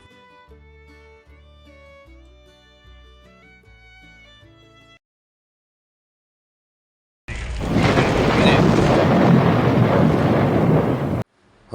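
Heavy rain and hail pounding down during a mountain storm on a hill road in Kashmir, a loud dense roar that starts abruptly after quiet musical tones and a silent gap, then cuts off.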